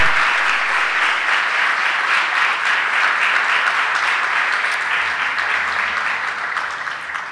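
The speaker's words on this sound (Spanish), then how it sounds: "Dale un aplauso al Señor." A church congregation applauds steadily, dense clapping filling a room, sustained for several seconds and tapering slightly at the end.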